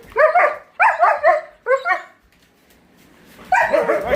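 Several dogs bark at a veterinary clinic, three loud, close clusters of sharp yapping barks, a short lull with faint whimpering, then more barking starting up again.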